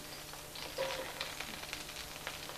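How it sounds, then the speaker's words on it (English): Soft, steady sizzling of a cut onion frying and browning in hot oil, with faint crackles and pops scattered throughout; no talking. "The oil is sizzling away."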